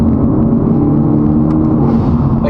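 Steady low exhaust rumble from a Hyundai Elantra N with a titanium mid-pipe, switched into N mode, holds a continuous, even drone at close range with no voices.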